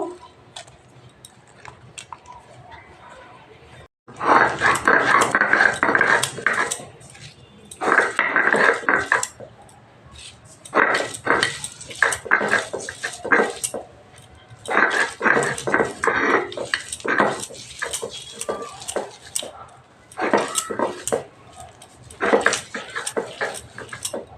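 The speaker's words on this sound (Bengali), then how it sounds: "আগে আমি এই চিংড়ি মাছটায় যে রসুনটা মিহি করে বাটবো না এইটা আগে বেটে নেব" Garlic ground by hand on a flat shil stone for a shrimp bharta: a rough, gritty scraping in repeated bursts of strokes with short pauses, close and fairly loud.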